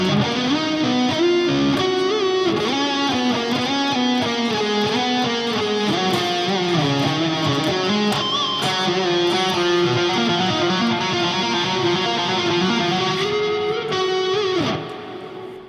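Through preset B of a Donner Arena 2000 multi-effects unit, an electric guitar plays a lead tone: sustained, bending melodic notes over dense distortion that are loud and steady, then cut off abruptly at the end.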